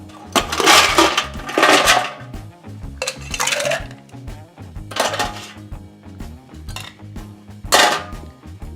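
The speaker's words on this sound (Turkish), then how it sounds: "shaker'ı şey bowl'umuza doldurup iyice shake ediyoruz her zamanki gibi." A cocktail shaker holding a Kamikaze with fresh lemon juice is shaken hard by hand, ice rattling in several loud, close bursts separated by short pauses over soft background music.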